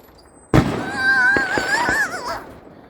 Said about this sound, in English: Little fireworks. Those are like Disney ones.